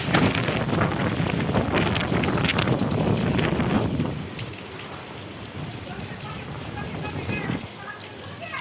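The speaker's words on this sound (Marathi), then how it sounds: "लयच भयानक मध्ये वारं सुटले" Strong outdoor wind roars and buffets the microphone in a loud continuous rush, easing after a few seconds into a lighter steady blow that swells again briefly, with a voice talking over it.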